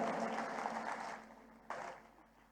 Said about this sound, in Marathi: मनीषाताई चौधरी यांच्यासाठी एकदा जोरदार टाळ्या होऊन जाऊ द्या